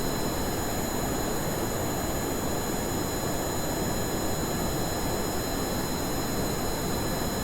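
Rocket engines firing in Kerbal Space Program, a steady unbroken roar of broadband noise with a high whine, loud and constant throughout without any variation.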